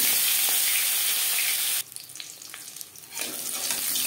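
Fish rubbed with salt and turmeric fries in refined oil with a loud, close sizzle that briefly drops to a quieter crackle mid-way before surging back up.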